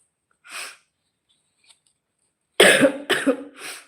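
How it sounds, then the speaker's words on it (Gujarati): A single cough from someone with a cold, a pause, then a quick cluster of three harsh coughs, close and loud, with silence in between. "થોડીક શરદી ઉધરસ થઈ ગયા છે"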